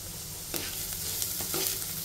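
Vegetables dusted with chilli powder fry steadily in a pan for a cheese sandwich filling, a continuous soft sizzle broken by a few brief scraping stirs, close and moderately quiet with no talking.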